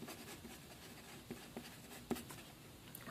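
Pen writing the words final amount during a percent and equations math lesson, heard as faint scratchy strokes with a few soft taps over a quiet room.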